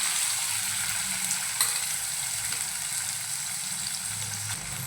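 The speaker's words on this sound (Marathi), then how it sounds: "त्यामध्ये बारीक चिरून घेतलेले कांदे घालून घेऊया।" Finely chopped onions sizzle in two ladles of hot oil in a kadhai used just before to roast peanuts, for a green tomato chutney; a loud, steady, close frying hiss with no voices.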